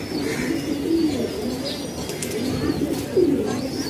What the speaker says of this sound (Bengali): আর এই কবুতরটা সম্ভবত একটা পাল্লার কবুতর